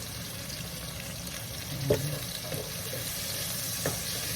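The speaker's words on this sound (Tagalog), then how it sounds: "kapag patis ang ilalagay, ginigisa ko po para maalis yung lansa" Fish sauce (patis) sautéing in a pan for a bangus miso sinigang, a low steady sizzle with a few brief clinks and stirring scrapes, no talk.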